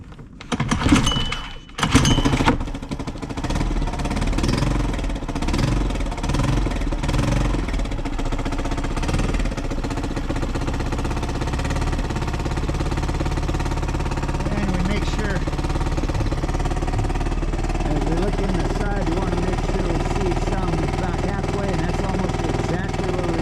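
A Honda 2HP outboard motor is pull-started with a few sharp clattering tugs, then catches and settles into a steady running drone that continues to the end, with a voice speaking briefly near the start.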